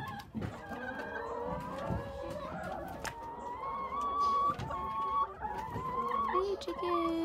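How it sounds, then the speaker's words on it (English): Chickens cluck and murmur close by on a Jamaican farm, with tonal bird calls running under people talking throughout. "Hey, chickens."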